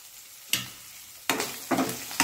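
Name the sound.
frying onions in a pan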